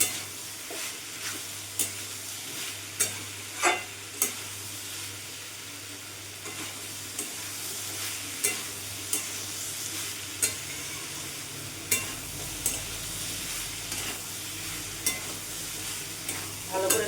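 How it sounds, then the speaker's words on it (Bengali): Soybean curry sizzles steadily in a pan over a gas flame while a utensil stirs and scrapes it at regular intervals, each stroke a sharp, close clack over the constant frying hiss. "এইভাবে একটু নাড়াচাড়া দিয়ে আমি আরও পাঁচ মিনিট কষিয়ে নেবো"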